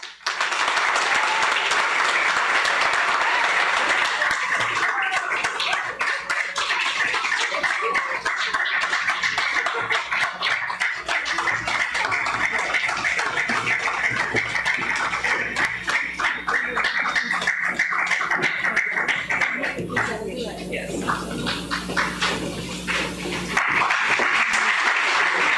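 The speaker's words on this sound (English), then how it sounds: "give a thunderous round of applause for the following people" Audience at a long service award ceremony applauding recipients, sustained loud clapping from a large room lasting over twenty seconds, briefly thinning near the end before swelling again, with faint laughter mixed in.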